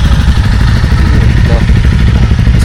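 Motorcycle engines running near Manang on a mountain trip, a loud, close, steady idling rumble with clattering mechanical texture and talk over it.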